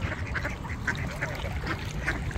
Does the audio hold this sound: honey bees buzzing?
no